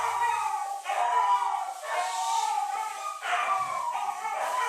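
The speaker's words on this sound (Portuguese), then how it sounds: "Deixa meus cachorros quietarem um pouquinho, só um minuto." Three dogs at a home carry on in drawn-out howling and whining, several overlapping long cries rising and falling continuously at fairly close range.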